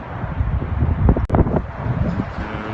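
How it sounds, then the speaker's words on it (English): Strong outdoor wind buffets a microphone in gusty low rumbles and rustling bursts, loud and close throughout. "it's very, very windy. So probably the sound will be very bad."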